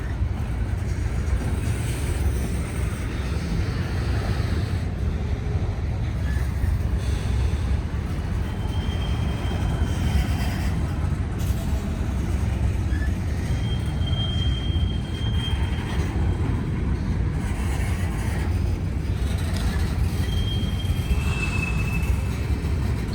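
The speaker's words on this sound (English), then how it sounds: "here comes the other train" A Norfolk Southern freight train rolls past at Elm Street in Greensboro, North Carolina, as a loud, steady rumble of wheels and railcars with occasional thin metallic squeals. It holds close and constant throughout and nobody speaks.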